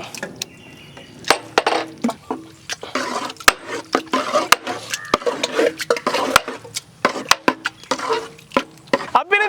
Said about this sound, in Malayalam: ഇനി നമുക്കിത് നന്നായിട്ട് മിക്സ് ചെയ്ത് കൊടുക്കാം കേട്ടോ